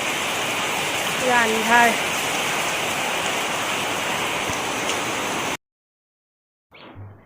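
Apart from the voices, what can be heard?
heavy rain falling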